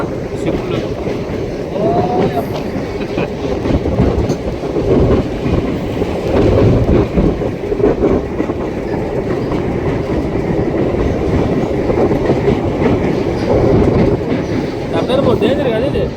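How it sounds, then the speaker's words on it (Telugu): A train running across a newly built bridge, loud close rumble and rhythmic clickety-clack of wagons rolling past continuously, with faint voices mixed in. "ఇప్పుడు కట్టినటువంటి వర్టికల్ బ్రిడ్జి మీద ఈ యొక్క ట్రైన్స్ నడుస్తున్నాయి."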